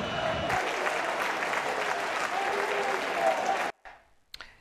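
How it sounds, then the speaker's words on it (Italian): Football supporters in the Curva Nord end of a stadium cheer and applaud after a victory, a dense roaring crowd that cuts off abruptly near the end, followed by a brief faint sound. "l'esultanza dei tifosi della Curva Nord che hanno trascinato la squadra alla vittoria"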